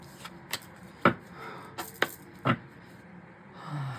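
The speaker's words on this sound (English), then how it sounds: "One more shuffle." A deck of tarot cards being shuffled by hand: a few short, sharp riffling bursts spaced about half a second apart, close and fairly quiet, with no talking.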